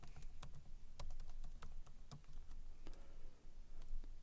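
Commands are typed on a computer keyboard in a quick, uneven run of crisp keystrokes, close and clear, with occasional short pauses and no talking.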